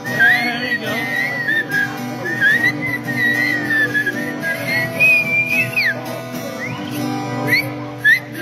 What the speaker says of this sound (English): Can we do the whistle? Come on, whistle.